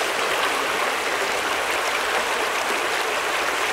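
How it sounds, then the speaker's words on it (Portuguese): Steady rushing water of the Paramirim River flows continuously, a broad even hiss like a small river running close by, with no voices. "Ver essa água correr aqui"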